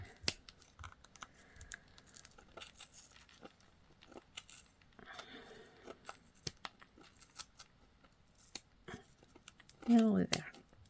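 Sharp scissors snip yarn to shape a handmade pom-pom. The quiet, scattered cuts and soft rustling come close up, irregular and intermittent, with a louder crinkling burst near the end and no clear speech.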